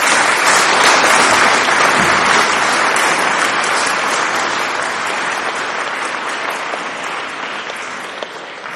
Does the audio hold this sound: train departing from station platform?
no